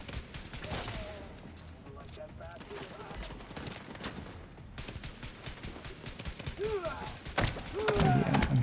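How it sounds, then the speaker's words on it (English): Video game gunfire rattles in rapid bursts and scattered shots over a busy background of game effects and mechanisms, with a voice talking through parts of it. "Yeah, I'm shooting the one in the back."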